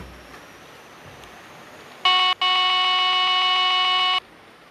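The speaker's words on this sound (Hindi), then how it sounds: "हॉर्न में ये पुराना वाला हॉर्न सुनिए आप लोग।" An old-style multi-tone train locomotive horn in a video game sounds twice: a brief blast, a short gap, then a longer steady blare of about two seconds against quiet background noise.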